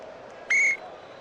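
A single short, sharp referee's whistle blast in the NBA 79 basketball computer game, a Portland Trailblazers at Phoenix Suns matchup, sounding loud and clear for about a quarter second over quiet background noise, with no talk.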